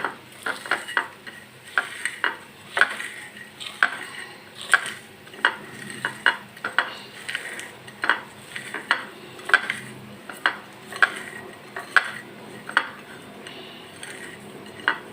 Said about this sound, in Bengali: মরিচটা ভালো মতো গুঁড়ো করে নিলে আলু ভর্তার সাথে ঝালটা ভালো করে মিশে যাবে